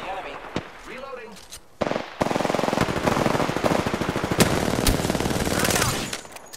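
Automatic gunfire rattles loudly and continuously in Apex Legends, with sharp single shots breaking through the dense bursts, after a short stretch of voice callouts.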